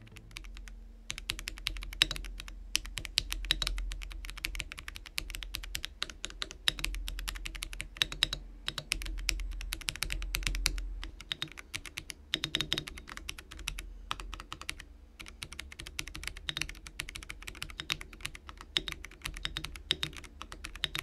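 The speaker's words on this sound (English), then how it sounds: "So let's hear what these keyboards sound like" Continuous close-up typing on a Keychron C3 Pro budget mechanical keyboard with red switches: dense, steady key clacks with soft thocks, no voices, running throughout.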